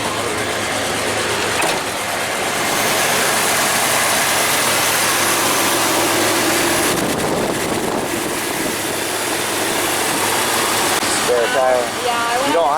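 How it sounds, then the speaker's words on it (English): A car engine, started and idling a little rough, runs loud and continuous at close range, with a brief voice near the end. "So it started up, kind of idling a little rough."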